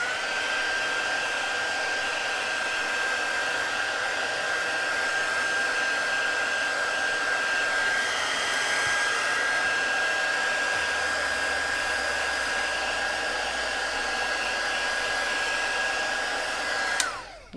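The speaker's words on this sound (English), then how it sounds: "I would hold my heat gun on there for a long time" A heat gun blowing hot air onto a Galaxy S10 Plus phone battery, a loud continuous whooshing hum with a thin steady whine, running unbroken for many seconds before cutting off abruptly.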